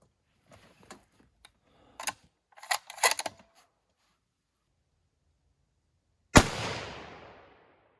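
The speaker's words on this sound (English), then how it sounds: "So we're going to be shooting the top right corner" A single loud rifle shot from a 300 PRC firing Federal Terminal Ascent ammunition cracks sharply and then rolls away in a decaying outdoor echo. It follows a few faint ticks and clicks of handling.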